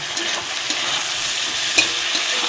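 Eggplant frying in a pan, a steady sizzle with a few scraping stir strokes of a spatula, close and continuous with no talking.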